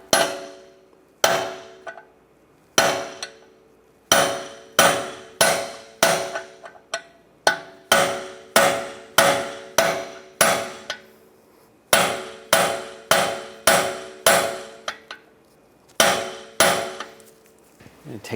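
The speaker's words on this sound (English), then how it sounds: "I'm going to take a punch and just hammer the axle in just to loosen it up." Loud metallic hammer blows striking a punch against a car axle on a 2010-2016 Cadillac SRX, about twenty ringing strikes in steady bursts with short pauses, close and without talking.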